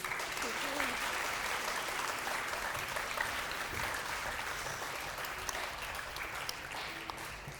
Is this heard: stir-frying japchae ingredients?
no